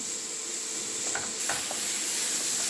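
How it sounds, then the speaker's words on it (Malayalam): Onions sauté in a pan with a steady hissing sizzle, broken by a couple of light stirring scrapes, close and even, with no voices. "ഉള്ളി ഏകദേശം വഴന്ന് വന്നിട്ടുണ്ട്."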